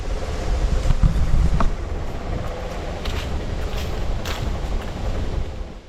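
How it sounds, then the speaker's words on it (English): A low, continuous rumble of a train passing in the distance, with wind buffeting the microphone outdoors on the Cowles Bog Trail at Indiana Dunes National Park in autumn. "Y'all hear that train in the background?"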